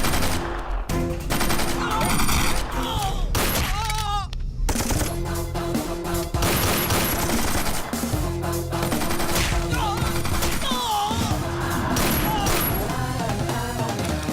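Sustained, loud gunfire with rapid bursts and single shots, dense and continuous throughout, mixed with explosions and clatter in an action scene.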